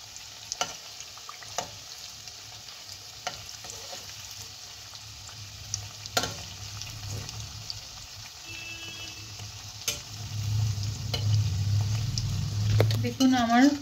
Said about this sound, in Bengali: এটা একদমই স্লোতে ভাজতে হবে, দিয়ে ব্রাউন ব্রাউন হয়ে যাবে